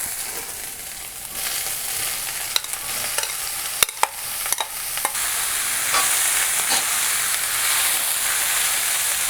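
Cucumber pieces drop into a pan with dried prawns and ginger and fry to a bright hissing sizzle that swells and holds steady. A few sharp utensil clicks sound up close, and no one talks.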